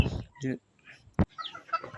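A brooding hen sitting on eleven eggs on a small farm gives a few short, close clucks mixed with a person talking nearby and one sharp knock.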